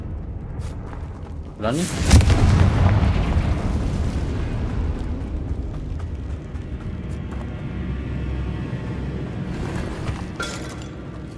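Confringo spell blasts in Hogwarts Legacy: a loud, deep explosion erupts about two seconds in and rumbles away over several seconds, with a sharper burst near the end, while someone briefly speaks.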